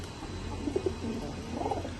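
Racing pigeons in a loft give a few soft, low coos at moderate distance, scattered over a steady background hum with no talking.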